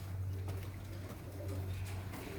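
Teddy breed pigeons coo in a breeder's loft, low rumbling calls repeating steadily and close, over a constant low hum.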